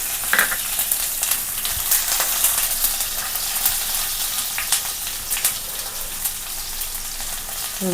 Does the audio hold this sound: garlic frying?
yes